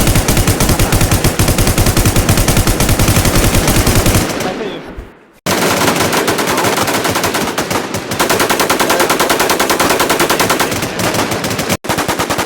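Sustained rapid machine-gun fire in the online shooter Infestation SEA, loud and dense bursts running almost nonstop, with one brief pause and a short gap near the end, and no talk over it.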